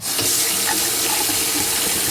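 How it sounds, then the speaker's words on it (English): Hot tap water rushing steadily into the tank of a Bissell Little Green ProHeat carpet cleaner, a loud continuous gush with the pitch shifting slightly as it fills. "We're going to fill it up with hot water, not boiling water"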